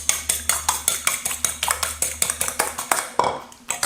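An egg being whisked in a bowl with a utensil, a rapid run of sharp, even clicks and taps against the bowl, close and alone.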